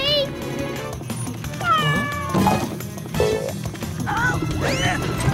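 Cartoon kitten meowing repeatedly in rising, wavering cries, close and loud over busy background music and cartoon voices, with several separate mews across the stretch.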